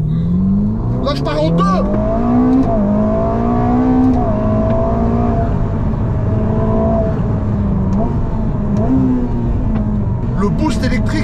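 A Ferrari with electric boost surges forward, its engine pitch climbing in long rising sweeps through several gear changes, loud and close from inside the cabin, while excited voices talk and shout over it.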